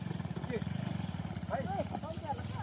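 A motorbike engine throbs in a steady low pulse as it is worked out of mud on a rough hill track, running beneath overlapping voices of people talking nearby.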